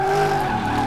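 Tires skidding on an 800-horsepower American car in Car Mechanic Simulator 2018, a steady, loud engine drone with a continuous squealing slide throughout, no speech.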